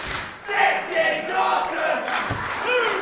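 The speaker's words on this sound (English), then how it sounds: "I do hear the crowd." A loud crowd at a wrestling match roars and cheers continuously, with shouts rising and falling over a few seconds.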